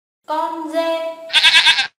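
Goat bleating loudly up close in a single wavering, drawn-out call that breaks into a harsher, shakier tail before stopping.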